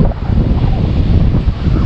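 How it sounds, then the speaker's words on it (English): Ocean waves break and churn on a cold shore under a cloudy sky, a continuous loud surf rumble mixed with heavy wind buffeting the microphone. "Look at this, look at these waves."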